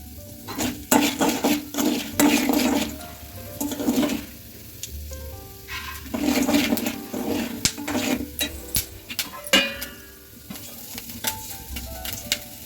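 Popcorn kernels beginning to pop in a home stovetop pan, scattered sharp pops and crackles rising over a steady sizzle, with occasional stirring clinks of a utensil against the pan, close and fairly loud, no voices.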